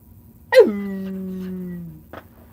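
A dog gives one sharp yelp that settles into a long drawn-out whimpering howl, close and fairly loud, fading after about a second and a half, followed by a short faint yip.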